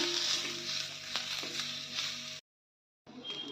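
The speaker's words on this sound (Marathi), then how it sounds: "तव्यावर आपण आधी कांदा भाजून घेणार आहोत आपण थोडंसं तेल टाकून घेणार आहोत आणि कांदा चांगला लाल भाजून घेणार आहोत" Onion fries in a little oil on a griddle pan, a steady close sizzle with a few faint stirring taps, broken by a brief silent gap before the crackle resumes.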